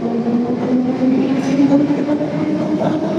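Tashkent metro train running steadily, a continuous loud rumble with a sustained droning tone throughout, close and without talk.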